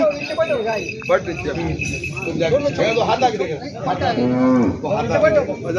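Cows moo repeatedly, long low calls overlapping one another amid crowd chatter and people talking nearby at the busy Ardhapur cattle market in Nanded, India.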